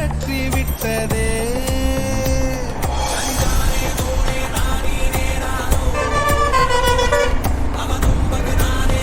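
A motorcycle rider in traffic sounds a vehicle horn amid a loud, dense mix of passing vehicles and other horns, with tones sustained and overlapping throughout.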